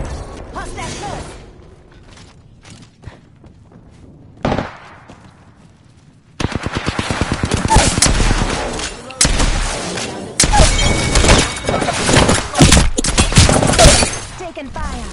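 Gunfire in the video game Apex Legends: dense, loud bursts of automatic shots and impacts crowd the second half after a quieter opening with scattered mechanical clicks and one sharp report.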